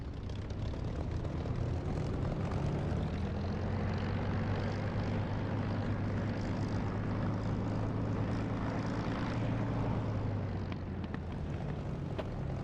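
A steady, droning propeller aircraft engine hums continuously while the plane taxis in the DCS or War Thunder flight simulator, with a constant low rumble, close and loud, and no talk.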